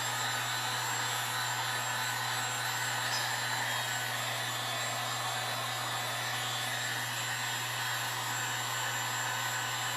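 A heat gun runs continuously at close range while painting a birdhouse stand, a steady loud whooshing blower roar with a constant low hum and no talking.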